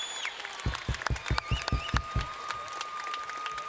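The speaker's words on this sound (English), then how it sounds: "how about another round of applause for these two magnificent men?" Applause from a crowd, a burst of loud claps with a rhythmic pulse early on that settles into steady, denser clapping.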